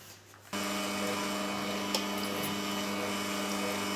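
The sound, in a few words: electric mixer whipping egg whites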